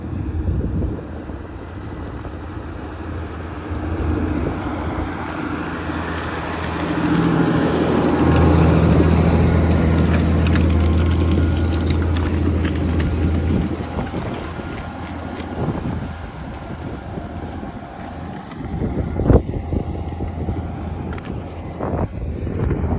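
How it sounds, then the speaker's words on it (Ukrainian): Tractors haul Lemken ploughs through heavy field ploughing in winter, a continuous low engine drone that swells in the middle and is mixed with strong wind buffeting on the microphone. "Важкувато, звісно, оранка, ніхто не говорить, що тракторам легко нагрузка і на плуги."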